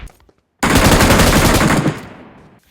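A loud, close burst of shotgun fire in the mobile shooter BGMI, a dense rattling blast lasting over a second that tails off quickly into quiet.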